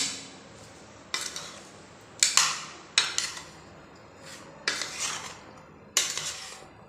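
A spoon tosses chopped pear and guava with spices for chaat, giving six or so quiet separate clinks and scrapes against a bowl at uneven intervals, close up, with no voices.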